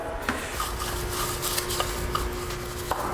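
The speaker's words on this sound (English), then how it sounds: "So we'll let that soak in there and go ahead and start scrubbing. Black on the wheels, white on the tires." Brush scrubbing on the tires of a 2017 Chevy Silverado with a white scrub brush, a steady close rubbing and rasping texture with faint scattered knocks, no talking.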